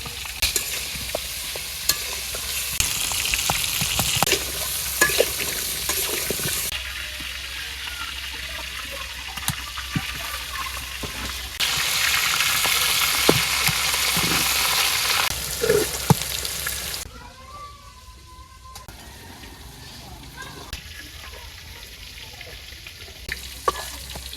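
Potato pieces with turmeric and salt fry in oil in a village kitchen wok, giving a steady loud sizzle with scraping stirs that quiets toward the end.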